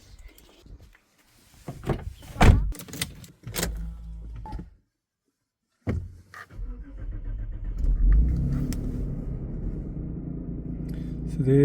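A car with a puzzling gearbox fault on a test drive: a few door thumps and a power window whir, a brief silence, then a steady engine rumble building up as it drives.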